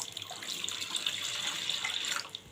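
Water pours steadily into a pan for mango syrup, a continuous splashing stream running close and alone for a couple of seconds, with no voices.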